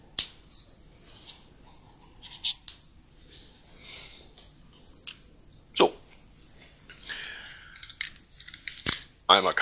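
Utility knife slicing and trimming double-sided tape on a plexiglass display case rail, heard as a series of sharp, close clicks and short scraping cuts at irregular intervals, with light handling noise between them.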